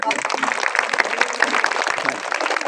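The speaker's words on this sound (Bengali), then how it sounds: "তাদের জন্য একটা ধরে হাততালি দেব।" Applause for school teachers and a committee at a football tournament prize-giving, a short burst of dense clapping from a crowd, steady and moderately loud throughout.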